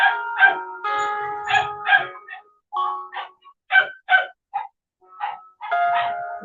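A dog barks in the background, a series of separate sharp, tonal barks and yelps coming in uneven bursts at fair loudness, with no other voices.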